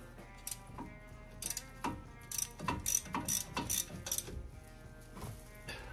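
Ratchet clicking while tightening bolts on a 2019-2021 Chevrolet Silverado Z71 brake job, quick bursts of rapid metallic clicks in repeated strokes, close and fairly loud with a faint steady hum underneath.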